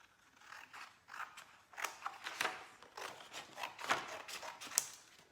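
Quiet, close snipping of scissors through watercolor paper during an art class, a series of short crisp cuts in an uneven rhythm.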